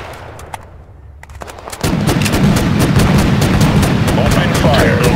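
Dense, continuous video-game gunfire erupts after a quiet moment, rapid automatic bursts layered with heavier booming shots, loud and close, with brief voices around it.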